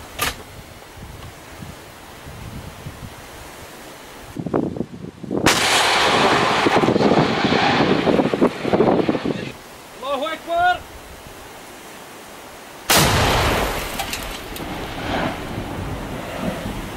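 A B-9 cannon fires from a hillside shoulder near the Nabi Younis summit in Syrian combat, two loud booming blasts several seconds apart over gusting wind noise, with brief shouted voices between them.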